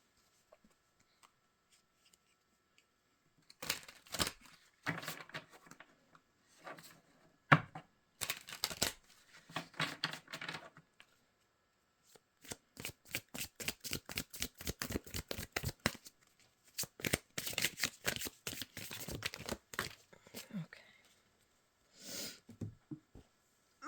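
Mystic Forest Oracle cards are shuffled in bursts of quick papery riffles and flicks, close and crisp, with short pauses between rounds in a quiet room.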